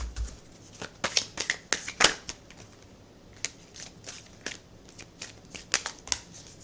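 Tarot cards being shuffled and drawn, a run of quick crisp riffles and flicks of card stock up close, followed by a few sparser slaps and slides as a single card is pulled.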